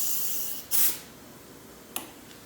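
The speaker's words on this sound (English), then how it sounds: "We're gonna run this gun at about 90 pounds of pressure" A spray gun fires thick product at about 90 psi in one short, loud hissing burst, then a brief sharp spit of air follows a moment later.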